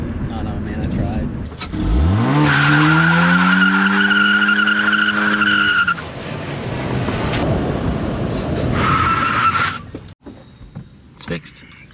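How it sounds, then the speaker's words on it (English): A Honda Civic does a celebratory burnout, its engine revving up as the tires squeal loudly for several seconds, then a second shorter squeal follows. A voice talks briefly at the end. "A little celebratory burnout."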